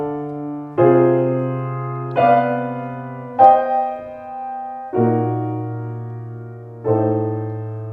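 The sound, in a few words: skeleton chord progression wandering off in tonality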